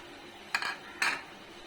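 Two short clattering impacts in a metal cooking pot as a small handful of curry leaves drops in, each burst brief and fairly quiet against a faint steady background.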